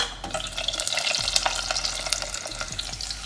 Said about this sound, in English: Next goes in the garlic, and again I'm going to cover it